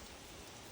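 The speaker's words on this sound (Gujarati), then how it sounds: "તો ગાઈસ અત્યારે ફૂલ વરસાદ આવે છે" Heavy rain falls in a steady, dense hiss that fills the whole brief moment evenly, soft and continuous, with no voices.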